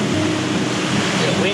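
Wind rushes steadily across a sailing yacht off Thailand, a continuous broadband roar with low rumble and microphone buffeting, with no pauses.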